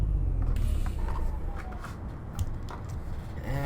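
A Freightliner Classic XL truck engine in American Truck Simulator gives a low, steady rumble that lifts briefly in a short rev, loud and close, with no talk over it.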